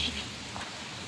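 Steady rain falls at night outdoors, a soft continuous hiss of drops on surfaces, faint and even throughout.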